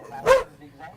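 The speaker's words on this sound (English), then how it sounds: "Yeah, that's a dog barking." A single sharp dog bark rings out close by, followed by a quieter faint yelp.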